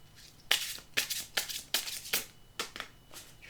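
Tarot cards shuffled by hand in a series of about seven crisp, papery riffling bursts at an uneven rhythm, close and fairly quiet, with no talking.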